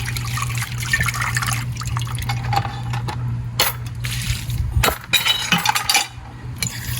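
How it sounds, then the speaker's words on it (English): Salt fish being rinsed in water, with trickling, splashing and small clinks against a container over a steady low hum, close and moderately loud. "Get the saltfish, I'll rinse."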